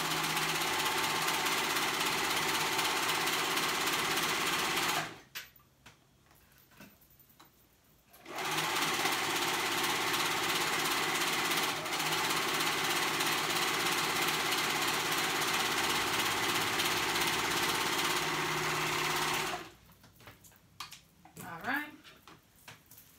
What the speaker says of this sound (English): And now we're gonna sew that crotch together.